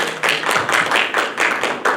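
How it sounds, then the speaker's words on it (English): A small audience at a community health forum claps for a panel in a brief burst of applause, steady and fairly close, with no voices. "Can we give our panel a round of applause?"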